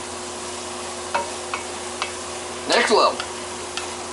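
Shrimp, rice and garlic sizzle softly in a pan, with a steady frying hiss broken by a few clicks of a utensil and a short louder burst of stirring, while a person talks briefly.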